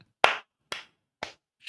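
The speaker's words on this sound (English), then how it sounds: "I'm gonna clap. Okay, clapping." One person claps four single, sharp handclaps, evenly spaced about half a second apart, close and clear against silence during a chess tournament broadcast.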